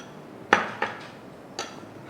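Fruit yogurt cake batter is stirred in a bowl, with three distinct clinks and knocks of a utensil against the bowl over a quiet background.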